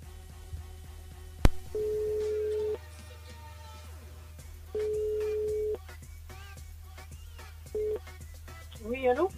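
Telephone ringback tone on a live call-in radio show, three long steady ring bursts with a short final one, heard under faint studio background and brief voices, ending as the call connects.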